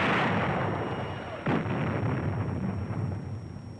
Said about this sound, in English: In a matter of moments, the big guns have zeroed in.